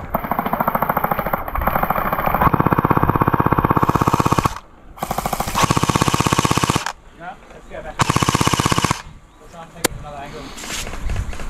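A Double Bell AKS-74U gel ball blaster fires long rapid full-auto bursts, loud and close, with brief pauses between strings of shots during a game, and voices faintly shouting in the background.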